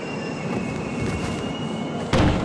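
A subway train rumbling through an underground station in the wrestling video game Wrestling Empire, a steady rail drone with a sharp louder burst near the end.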